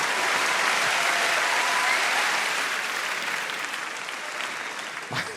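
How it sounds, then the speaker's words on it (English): A live comedy audience at the Apollo gives sustained, full applause for celebrities in attendance, a dense even roar of clapping that slowly thins near the end. "Applause to our celebrities for joining in."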